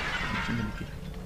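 Objects shattering and breaking in the horror video game The Evil Within, a dense crash of smashing debris over steady in-game ambience.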